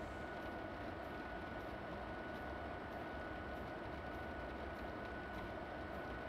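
Train running on rails between Munich and Augsburg in stormy weather, a dense, steady rumble with a faint high tone throughout, heard from inside the cab with no talk.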